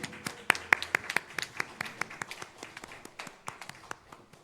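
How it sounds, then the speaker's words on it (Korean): A church congregation at a Sunday afternoon worship service breaking into applause, starting with a few loud close claps and settling into a scattered, gradually fading patter of hands in the hall. "우리 크게 박수 한번 쳐주십시오."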